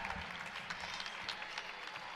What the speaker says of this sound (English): Some ovations from the Wolverine crowd here.